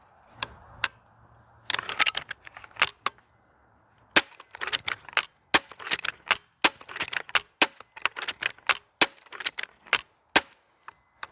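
A repeating crossbow fires bolts quickly as its magazine empties, with dozens of sharp snapping clacks in irregular bursts and short pauses between them, loud and close.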